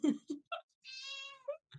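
A cat meows close by: a few short chirpy meows, then a longer drawn-out meow and a couple more brief calls, fairly quiet.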